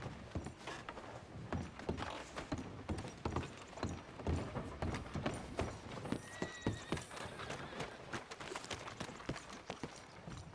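Horse hooves in the video game Red Dead Redemption 2 clip-clop in a steady, quick rhythm, mixed with rustling movement and a faint whinny midway; fairly close and quiet overall.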